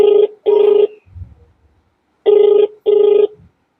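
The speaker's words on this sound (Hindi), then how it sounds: "इन्होंने फोन नहीं उठाया है।" A telephone ringback tone sounds on an unanswered call, two paired bursts of steady buzzing tone separated by a pause, loud and close, with no one picking up.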